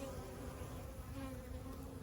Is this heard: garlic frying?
no